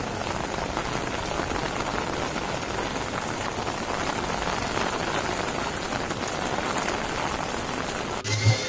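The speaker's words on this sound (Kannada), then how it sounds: "ಮಳೆನೂ ಬರ್ತಾ ಇದೆ" Rain falls steadily at night outside a temple in Thiruvananthapuram, a constant dense patter on surfaces with a brief soft knock near the end.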